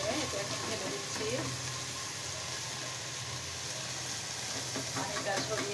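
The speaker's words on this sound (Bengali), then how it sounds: "এখন আমি যে চালটা ধুয়ে রেখেছি এটা এখন ঢেলে দিচ্ছি।" Washed rice poured into a pan of fried spices while cooking beef bhuna, giving a steady hiss and sizzle with stirring scrapes throughout and no pauses.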